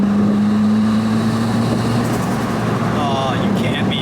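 A Toyota Celica GT-S Turbo engine drones steadily at close range while driving, a constant loud hum with road and wind rumble beneath, as a person speaks excitedly over it.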